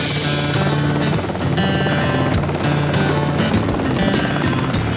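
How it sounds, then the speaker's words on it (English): A small helicopter mustering deer drones steadily overhead, its rotor chopping in a rapid rhythmic beat, fairly loud and continuous. "we have a small helicopter"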